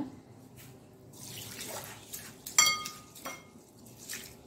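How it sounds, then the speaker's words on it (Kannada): Moong dal lentils being rinsed in water for dosa batter: soft splashing and swishing with a few sharp clinks of a vessel, fairly quiet and close, with no talking. "ಈ ಒಂದು ಹೆಸರು ಬೇಳೆಯನ್ನು ಚೆನ್ನಾಗಿ ತೊಳೆದು"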